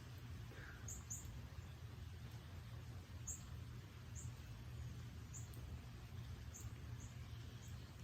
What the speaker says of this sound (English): It was two red robins or two cardinals.